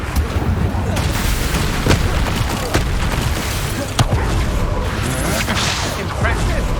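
Spell explosions from the Hogwarts Legacy video game, including the Confringo blasting curse, crash out as loud repeated booms and blasts over a dense, continuous roar of battle effects.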